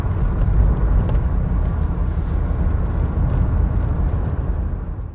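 Ford Sierra 1.6 GL sitting in slow commuter traffic, a steady low engine rumble and road drone heard from inside the car, fairly loud and even, with no talking.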